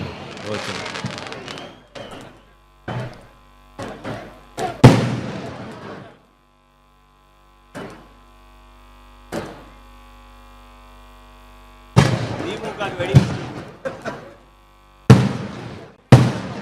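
Sharp broadband firecracker bangs at a political campaign event in Tamil Nadu burst out irregularly, some loud and close, with a steady low hum between them and quieter gaps in the middle.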